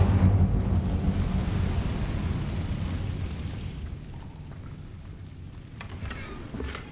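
A fire spell cast in the Hogwarts Legacy video game: a loud, rumbling burst of flame that roars and slowly fades over several seconds, with a few faint crackles near the end and no talking.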